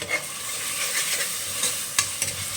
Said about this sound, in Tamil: உடனே நான் வந்து 3 மீடியம் சைஸு பச்சை மிளகாய் சேர்த்துக்கிறேன்.